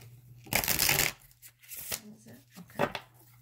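Tarot cards being shuffled and drawn for a Capricorn reading, quick riffling bursts and soft slapping snaps in close succession, loud and near, with a voice speaking between them.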